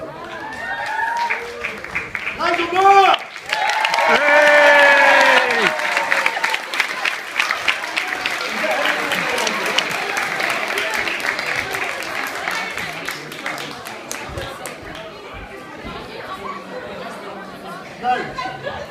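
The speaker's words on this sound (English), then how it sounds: "Big round of applause." A school audience bursts into loud applause and cheering for a Dalek show, a dense wash of clapping and shouts that swells early and then tapers off, with an announcer's voice calling out over it.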